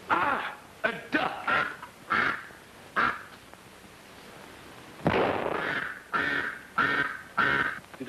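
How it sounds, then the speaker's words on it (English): A duck quacks repeatedly in short, nasal bursts, first in a quick run, then after a pause in a louder cluster, with a sharp thud or bang between them. "a duck"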